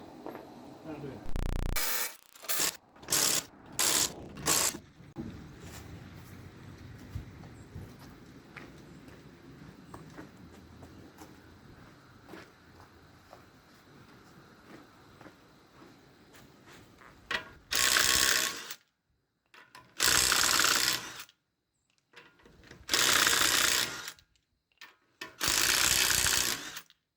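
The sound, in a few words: impact wrench loosening car wheel lug nuts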